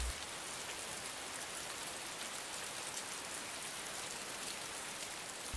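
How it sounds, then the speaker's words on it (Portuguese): Heavy rain falling on a street in the video game Heavy Rain, a dense, steady, loud downpour hiss that stays unbroken throughout with no voices. "E tá uma chuva muito forte, velho."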